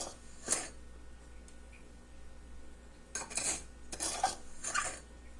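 Small metal scoop clinking and scraping against a bowl while baking a cake from scratch, a few short bright clatters spread over several seconds with quiet pauses between, close and moderately faint.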